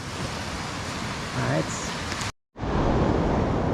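Big ocean waves at a beach roar as a steady, broadband wash. The sound cuts out briefly, then returns louder, with a voice faintly audible partway through.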